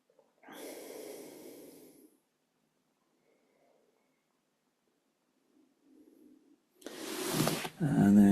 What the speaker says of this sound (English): Breathe in through the nose and out through the nose